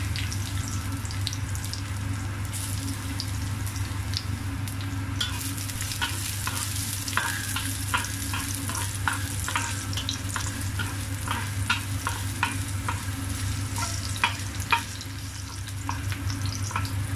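Garlic frying in reheated cooking oil for a pork belly, bitter melon and fermented soya bean dish, a steady close sizzle with scattered sharp crackles and stirring scrapes running throughout, with no talking.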